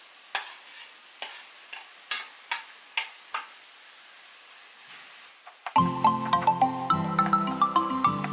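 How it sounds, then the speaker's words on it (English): Potatoes cooking in a pan for a home meal, with a few soft sparse clicks of stirring, then a louder stretch of sizzling frying and regular scraping stirs that fills the end. "I will cook the potatoes for a little more time because I want it to be very soft"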